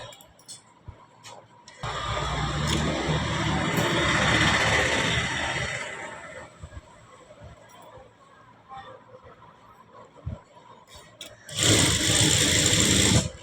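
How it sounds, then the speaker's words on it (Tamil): Sewing machine stitching a blouse runs in a steady whirring burst for several seconds, stops, then starts again briefly near the end, with quieter handling sounds in between. "ஒரு புள்ளி கிளாத் இங்கே வர மாதிரி ஸ்டிச் போட்டுக்கோங்க"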